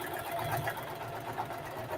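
A sewing machine stitches a patchwork duffle bag, a steady buzzing hum of rapid stitching, close and continuous, without talk.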